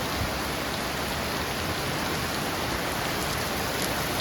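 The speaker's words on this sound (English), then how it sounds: "We have a warm rain falling here," Steady, dense warm rain pours down continuously, a close hiss of drops pelting surfaces with no pauses or voices.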